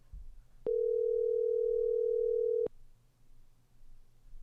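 One long telephone ring tone sounds as an outgoing call rings, a steady unbroken electronic tone lasting about two seconds that starts and stops abruptly over quiet background hum.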